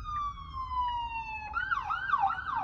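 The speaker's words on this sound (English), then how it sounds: "Oh, ambulance here." An ambulance siren passes on a Toronto street, first a steady falling tone and then a rising and falling wail, moderately loud over the low hum of the car.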